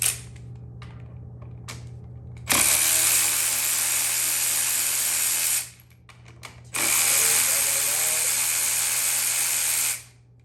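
A power tool, likely an impact driver, spins out 10 mm bolts on a YZ250 motorcycle in two loud, sustained whirring bursts with a short pause between, each followed by fainter mechanical clicks.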